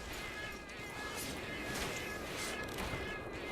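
Many overlapping cat meows from the video game Monster Hunter Frontier, a dense, continuous chorus of kitty cries under a steady game soundscape, with no clear pauses.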